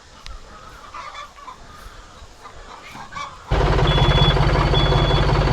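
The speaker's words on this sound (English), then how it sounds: "Stupid geese." Farm geese and chickens clucking and honking close by, a quiet stretch of scattered fowl calls giving way to a loud, steady wash of engine-like rumble with a sustained tone over it, no talking.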